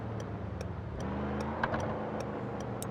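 A car pulls away in the Car Parking Multiplayer video game, its engine revving and rising in a moderate mechanical drone, with light regular ticks over it and no speech.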